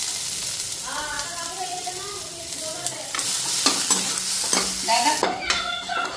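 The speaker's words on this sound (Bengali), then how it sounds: "এইদিকে তেলটা গরম হয়ে গেছে, তো এই যে শুকনা লঙ্কা নিচ্ছি, শুকনা লঙ্কা দিয়া দেয়। তো এই যে রসুন দিয়া দিলাম।" Dry red chillies and garlic frying in hot oil, a steady crackling sizzle with stirring scrapes and clatters growing louder partway through, close up, while someone talks over it.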